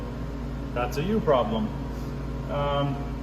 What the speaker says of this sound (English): sorry for the fan noise all the time